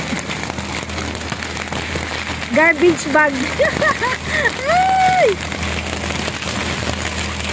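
Heavy rain pours down at sea on a boat, a dense, constant hiss throughout, while a voice talks and shouts over it.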